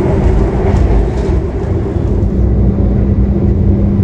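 The KA Taksaka passenger train rolls and slowly brakes at night, a loud, steady rumble of wheels and carriage noise with a faint whine, heard from inside with no talking.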